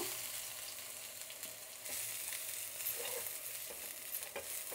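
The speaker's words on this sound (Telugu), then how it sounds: "ఈ తెల్లగడ్డలు కొంచెం బాగా ఫ్రై అవ్వాలండి." Crushed garlic cloves fry in hot oil, a steady close sizzle with occasional stirring scrapes, running alone without talk.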